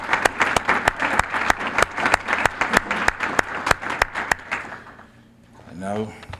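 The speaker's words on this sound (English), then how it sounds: "So I just think you should stand and get a round of applause." A lecture audience gives a round of applause with crisp, rhythmic claps that fade out after about four and a half seconds, followed by someone speaking.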